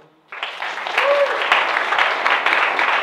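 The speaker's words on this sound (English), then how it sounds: "And a huge round of applause for the young performers." Audience bursts into applause for young performers at a concert, starting abruptly after a brief quiet moment and holding as a full, even round of clapping with some voices and a short whistle.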